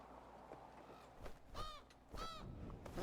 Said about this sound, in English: It sounds like some kind of giant crow just landed.